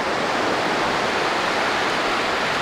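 Sea water at Nacpan beach washes in a steady, dense hiss of surf, close and unbroken, with no voices over it.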